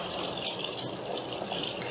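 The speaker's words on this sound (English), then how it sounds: "Just washing it in light water." Running tap water pours steadily over vegetables being rinsed by hand, a continuous close splashing and gushing with slight variation as the produce moves under the stream.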